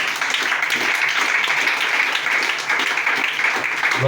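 A church congregation applauds during a French-language service, producing steady, full clapping that continues throughout, with faint voices mixed underneath.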